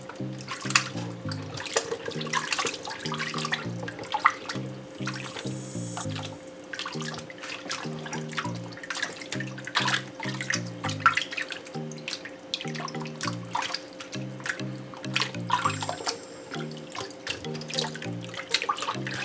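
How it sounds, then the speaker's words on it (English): A kitchen faucet runs steadily as oxtail meat is rinsed for Jamaican stew, its water splashing and clattering close by under quiet background music throughout. "So you wash your meat thoroughly."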